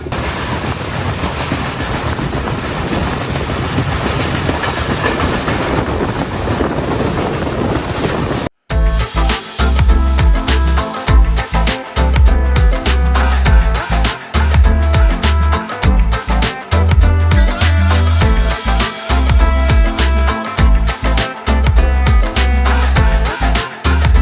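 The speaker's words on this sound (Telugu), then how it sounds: "ట్రైన్ అయితే కలుతారా అనే స్టాప్ లో అయితే ఆగింది" A train rumbles along the rails on a coastal line in Sri Lanka, loud and close, first as a steady roar, then a rhythmic clatter of wheels over track joints with sharp clacks.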